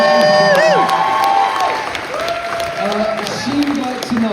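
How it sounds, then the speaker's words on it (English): Convention audience at a Red Dwarf cast panel applauding a cloakroom worker, a loud burst of clapping and some cheering mixed with voices and tonal whooping sounds over the top. "Can I have a round of applause for Sarah in the cloakroom"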